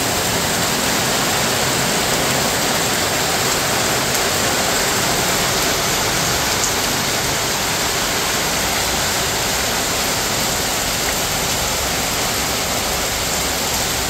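Heavy rain pours steadily on a rainy morning in the Philippines, a dense, unbroken roar of water filling the whole clip with no voices.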